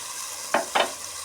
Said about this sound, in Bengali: এখন দিয়ে দিচ্ছি সঙ্গে পেঁয়াজ বাটা এখন আদা আদা রসুন বাটা